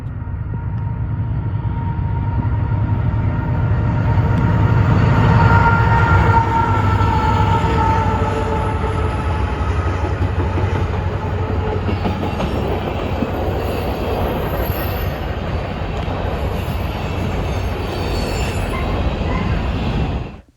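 An empty Martin Lake coal train rolls past close by, a steady loud rumble of rail cars with clickety-clack and occasional wheel squeal holding for about twenty seconds without letup.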